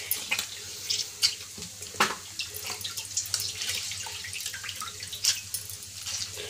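Washed bitter gourds squeezed by hand in a kitchen, with wet splashes and drips of water falling in irregular bursts, close and fairly soft, with no talking.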